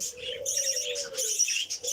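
Pet birds chirp and tweet while feeding together in a mixed aviary of lovebirds, finches, budgerigars and cockatiels, with steady overlapping high calls and an occasional soft coo, fairly near and continuous, with no talking.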